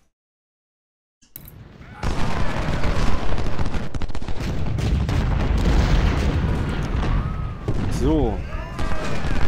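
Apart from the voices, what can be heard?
cannon fire from the video game Ultimate General: Civil War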